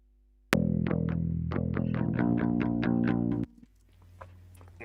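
An instrument part in a Cubase Pro 11 project with everything below 250 Hz cut by EQ gives a thin, bright run of about ten plucked notes, then stops abruptly, leaving faint residue.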